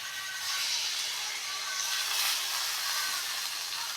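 A pot of village-style chicken red curry simmering on low heat as a little water goes in, producing a continuous soft steamy hiss with nothing else over it.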